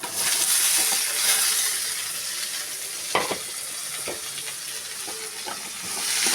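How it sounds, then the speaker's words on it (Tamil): Tomatoes and onion sizzle steadily in hot oil with popped mustard seeds, a dense close frying hiss with a few stirring scrapes partway through. "கடுகு பொரிஞ்சோடனே மூணு தக்காளி பழம் ஒரு வெங்காயம் அதையும் போட்டு"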